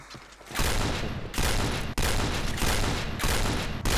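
Rapid automatic gunfire in the shooter Point Blank, with loud dense bursts of shots that run almost continuously after a brief quiet start, broken by short gaps.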